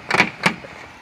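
A car door handle pulled from the outside on a door that will not open from outside, giving two short clacks of the latch mechanism close by, with nothing else sounding.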